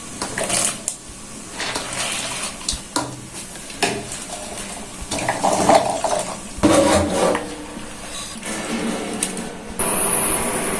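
A lid lifted off a pot of soft vegetable khichuri and a spatula stirring it, producing clinks, scrapes and wet stirring sounds in irregular bursts, close and moderately loud with no talking.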